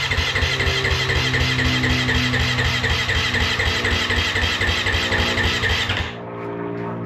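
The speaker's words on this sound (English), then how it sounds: "I just hold the kill switch and the starter at the same time to" A Kawasaki KX450 dirt bike engine turns over on the electric starter with the kill switch held, priming the oil filter after an oil change. It gives a steady, close, rhythmic mechanical whir for about six seconds, then cuts off.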